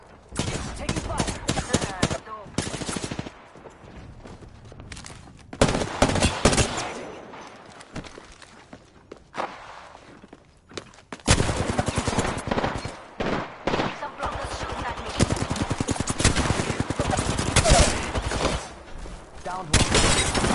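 Video game gunfire plays in long dense bursts of rapid automatic shots with short pauses between them, loud and close throughout, while voices talk over parts of it.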